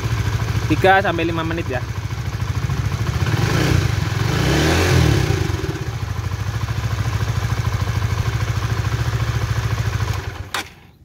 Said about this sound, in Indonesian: Cara ngeceknya kita nyalain dulu ya motornya